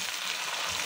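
Onion frying with tomato and white cumin seeds in a pan, a steady close hiss of sizzling that holds for a brief moment without any voice.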